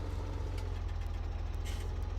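A huge tractor in Farming Simulator 2017 idles with a steady, heavy low rumble, a constant engine drone with faint higher hiss, no talk over it.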